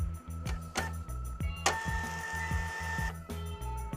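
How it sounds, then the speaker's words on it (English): A Zebra ZT230 label printer printing labels, a rhythmic run of mechanical clicks and ticks over a low motor hum with a brief whirring feed burst in the middle, close and moderately quiet. "The media now prints with even pressure and good resolution."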